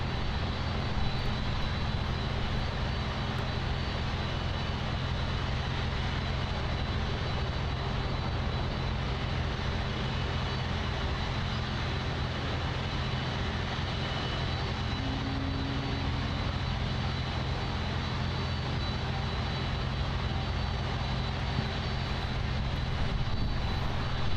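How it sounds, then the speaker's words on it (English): A LATAM Cargo Boeing 767-300 freighter at Miami International Airport roars through its takeoff roll, a loud, steady broadband engine rumble that fills the whole stretch without letup. "it is time for the takeoff of the LATAM Cargo Boeing 767-300 freighter"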